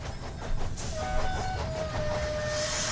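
A train rumbles along the rails at a steady pace, with a low rolling drone, faint rhythmic clatter and a thin metallic squeal rising over the top.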